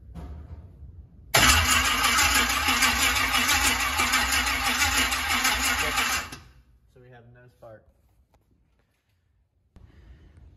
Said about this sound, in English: Crank it, and I guess we'll just see if there's spark.